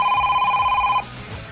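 A mobile phone rings with a steady, loud electronic warble for about a second, then cuts off, leaving only low background noise.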